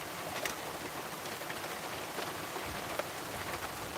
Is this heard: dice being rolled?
no